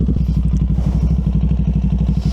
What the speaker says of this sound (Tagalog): Painitin na natin yung makina.